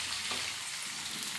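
Garlic and curry leaves frying over a lowered flame in an iron wok, a steady soft sizzle with faint crackles, close and continuous.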